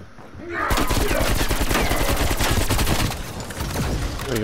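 Rapid automatic gunfire in a Call of Duty match, loud and dense bursts after a quieter start, continuing with a slight drop near the end while a voice speaks briefly.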